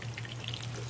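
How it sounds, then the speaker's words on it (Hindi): Beef koftas fry in a shaken frying pan, giving a short close burst of steady oily sizzling with a low hum beneath, no voices present. "फ्राइंग पैन को हिलाकर इस तरह इन्हें रोल करते हुए हर तरफ से गोल्डन ब्राउन कर लेना है"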